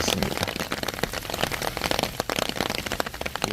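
Rain patters steadily onto a soft, soaked red clay path, a dense crackle of close drops hitting wet earth with no one talking.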